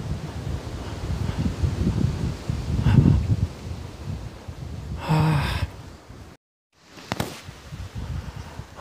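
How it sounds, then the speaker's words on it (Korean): Strong wind gusts through a camellia grove on Jeju, a steady broadband roar buffeting the microphone with brief breathy bursts and a short drop-out before the gusting resumes. "진짜 바람 많이 부네"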